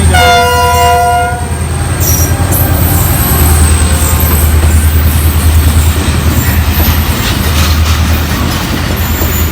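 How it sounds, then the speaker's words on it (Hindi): A long train on Pakistan Railways sounds its horn, then passes close and loud with continuous rumbling, rhythmic wheel clatter, and faint screeching over the rails. "लेकिन काफ़ी बड़ा रेल है"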